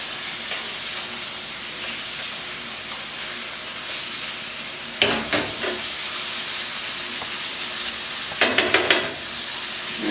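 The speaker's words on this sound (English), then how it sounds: "our pork chops continue to get a little color on them" Pork chops fry in a hot pan with a steady, even sizzle throughout, broken by a few louder bursts of crackling and spattering midway and near the end; no one speaks.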